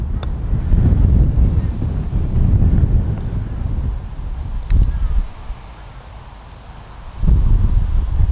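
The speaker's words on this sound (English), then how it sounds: "The wind is on my back blowing me over." Strong wind buffets the microphone outdoors in heavy, roaring gusts that ease briefly and then surge back loud and close.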